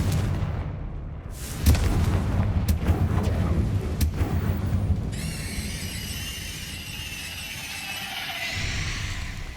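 Confringo spell blasts in the Hogwarts Legacy video game hit as a few sharp, booming bursts over a rumbling battle backdrop, then a shimmering magical tone swells and lingers afterward.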